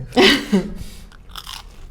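Crunchy oliebollen, Dutch fried doughnuts, are bitten into and chewed up close, with a loud crisp bite followed by softer mouth crunching and chewing sounds.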